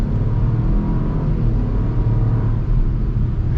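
A 2025 Chevy Trailblazer small crossover with a three-cylinder engine pulls hard under acceleration. The engine gives a steady, loud rumbling drone from inside the cabin, and no one speaks.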